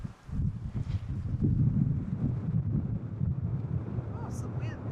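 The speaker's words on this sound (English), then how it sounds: "Oh, some wind." Wind gusts buffet a microphone on the outside deck of the motor vessel Sea Venture near the Golden Gate Bridge, a low rumbling roar that stays constant, with a voice speaking briefly.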